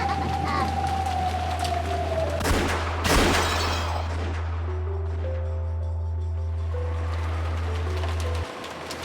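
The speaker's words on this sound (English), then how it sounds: "the sound of gunfire thundered across the dark rose garden" Gunfire sound effect from the visual novel Umineko When They Cry, set in a dark rose garden: a loud burst of shots around the three-second mark over a steady low hum and eerie tonal music, no voices.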